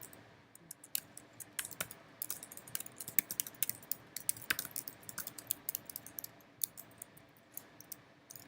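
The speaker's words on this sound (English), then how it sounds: "I can type in the command" A git command being typed on a computer keyboard, quick irregular bursts of close, crisp key clicks with short pauses in between and no talking.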